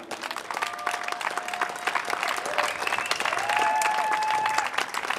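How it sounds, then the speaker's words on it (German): Audience applause at an outdoor demonstration in Schwäbisch Gmünd, dense steady clapping from a crowd throughout, with whistles and cheering voices rising over it. "dass ihr durch den Beifall eure Zustimmung zum Ausdruck gebt"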